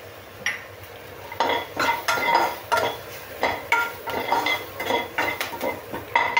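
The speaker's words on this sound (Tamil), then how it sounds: "இப்போ எண்ணெய் காய வச்சுருக்கேன். கடுகு, இப்போ வெங்காயம், பச்சை மிளகாய் சேர்த்தாச்சு." Mustard seeds, onion and green chili frying in oil are stirred in a metal pan, with repeated spatula scrapes and clatter in bursts over a faint sizzle.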